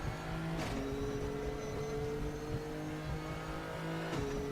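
Steady engine drone from a GTR3 race car lapping Silverstone in Raceroom, revs rising gradually between two quick gear shifts, loud and continuous with no talk.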